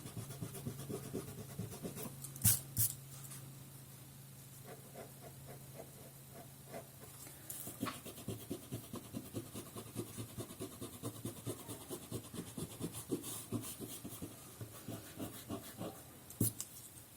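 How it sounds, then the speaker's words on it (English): A pencil eraser rubs back and forth on drawing paper in a run of quick, soft scratchy strokes, with a low steady hum early on and a few sharper scrapes, faint and close. "at this point you're going to erase your envelope lines"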